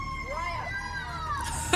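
A police car siren from a TV show playing in the background, its wailing tone rising and falling under a voice talking, with a sharp knock near the end.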